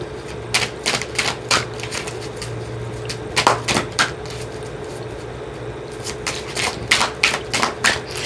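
Doreen Virtue Archangel Oracle cards are shuffled in close, loud bursts of crisp riffling clatter, several quick flurries separated by short pauses over a faint steady hum.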